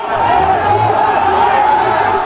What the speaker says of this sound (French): En milliers de têtes, une foule surexcitée